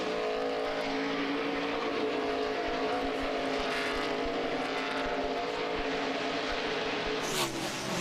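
NASCAR race cars run single file around the track late in a race, a continuous loud roar of V8 engines with a dense rolling drone and a car passing sharply near the end.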